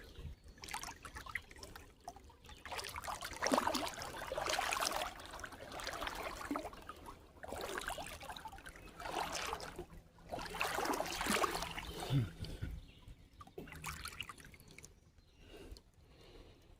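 Creek water trickles and gurgles quietly near a spring-fed stream in Prattville, Alabama, a faint continuous burble that swells and fades over the whole stretch.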